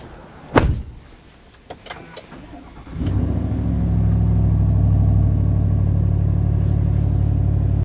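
A 2025 Chevy Silverado Redline Edition V8 cranks and fires up, then settles into a loud, deep, steady exhaust rumble heard close by. A few clunks, like a door, come just before the engine catches.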